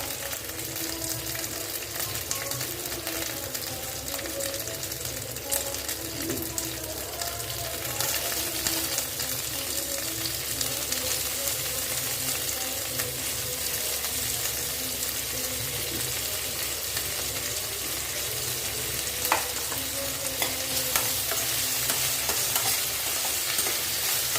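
Steady sizzling of onions frying in hot oil, with occasional scraping as they are stirred, continuous and close, no voices.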